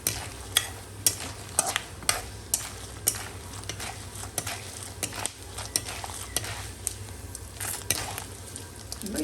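Red chillies and peanuts fry in a pan for an instant pulihora mix, with a low sizzle under regular ladle taps and stirring clinks roughly every half second.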